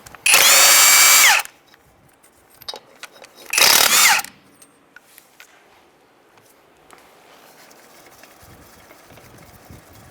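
Power tool spinning wheel lug nuts off a 1992-1996 Ford F-150, with two loud close whirring bursts, the first over a second long and the second shorter, separated and followed by quiet shop clatter.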